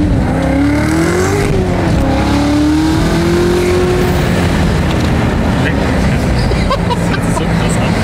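The V8 of a Chevrolet Corvette C7 Z06 revs hard and loud, its pitch climbing and wavering as the engine pulls under strain, with a continuous roar throughout.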